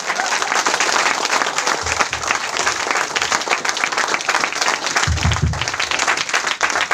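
Audience applause in a business seminar hall, dense steady clapping filling the whole stretch, loud and close, with a couple of low thumps mixed in and no clear speech over it.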